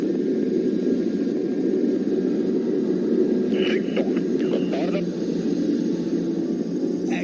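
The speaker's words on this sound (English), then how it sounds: "speed around 250 knots, just everything he can really get out of his aircraft" A PC-7 aircraft flies past at the Cosford airshow at around 250 knots, a steady broadband engine and propeller drone heard under continuous live commentary.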